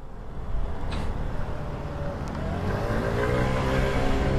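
An Austin Strada scooter engine hums steadily while two riders cruise along, a continuous close motor drone with slight rises in revs and wind noise around it.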